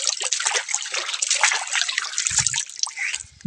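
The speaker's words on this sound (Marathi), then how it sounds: "पाणी मारत आहे" Water trickles and splashes into a farm water tank in hot summer conditions, a steady close bright patter with a brief low thump near the end.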